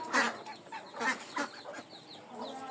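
A mother hen with five chicks clucks in short bursts close by, three or four soft, throaty calls spaced about half a second apart, with faint chick peeps in between.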